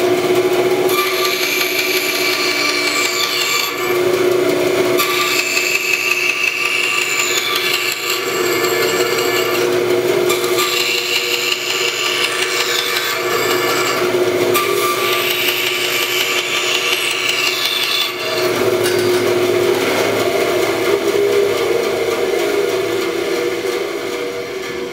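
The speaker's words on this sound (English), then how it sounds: "Turn on the bandsaw and we're just going to spin the blank and it's going to cut" A bandsaw runs continuously at a loud, steady pitch while it trims the corners off a wooden gear blank spun against the blade, with a slight rhythmic change as each cut comes around.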